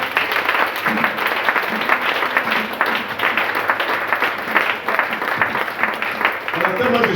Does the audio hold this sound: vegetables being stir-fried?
no